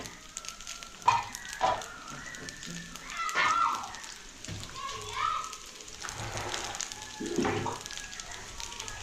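Fish fries in a yogurt-mustard sauce, a soft crackling sizzle running throughout beneath people talking nearby in a home kitchen.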